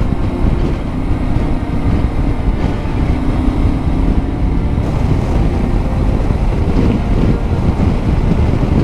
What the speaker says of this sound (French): Ce vent de fou